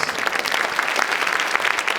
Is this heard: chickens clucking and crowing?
no